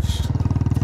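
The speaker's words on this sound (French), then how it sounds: "c'est le ronronnement de la moto" A Royal Enfield Classic motorcycle engine idles up close with a loud, steady low thumping pulse, each beat evenly spaced in a regular single-cylinder rhythm.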